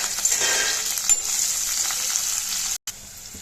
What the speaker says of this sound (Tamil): இந்த மாதிரி நறுக்கி அதை இதை எண்ணெயில் சேர்த்துட்டு நல்லா வதக்கி விட்டுக்கலாம்